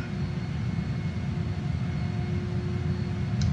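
A JAS-39 Gripen jet touching down in Microsoft Flight Simulator, a steady, loud engine roar with a low rumble and a faint whine, unbroken for the whole stretch.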